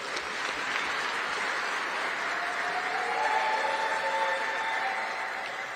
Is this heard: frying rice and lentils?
no